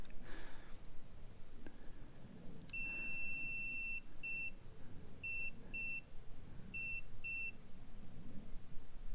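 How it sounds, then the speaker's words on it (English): A STACYC 16eDRIVE brushless electric balance bike gives a run of short, clear electronic beeps: one long tone, then quick pairs in a steady rhythm, close by over low background hum. "you turn it off and back on, and it beeps twice"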